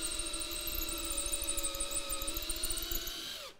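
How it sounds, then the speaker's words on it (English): A hand drill bores steadily into wood while held square to the workpiece, its whining motor tone holding evenly close by for over three seconds before winding down abruptly at the end. "I keep this drill aligned on this surface and on this surface here"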